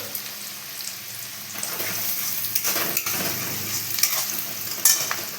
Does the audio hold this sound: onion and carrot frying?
yes